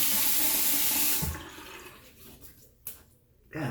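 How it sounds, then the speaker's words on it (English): A stainless steel shavette is rinsed under a running tap: loud, close water rushing from a faucet for over a second, then it cuts off to quieter drips and splashes, with a short burst of flow near the end. "Get rinsed off here."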